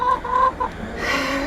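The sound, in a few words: chickens clucking in the snow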